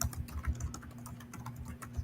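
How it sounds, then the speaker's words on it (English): Someone types quickly on a computer keyboard, a quiet, uneven patter of key clicks heard faintly over a low background hum. "Jimmy over there typing away"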